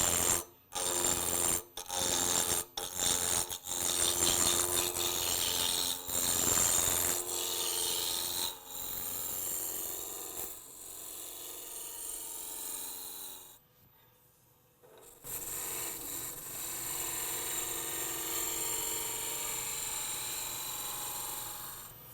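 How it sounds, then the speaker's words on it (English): A spindle roughing gouge cuts a wooden clock base turning between centers on a lathe, a steady close rasping scrape broken by several short pauses and a brief drop near the middle before the cutting resumes. "I'm going to use a spindle roughing gouge. Just going to make it round, put a tenon on it."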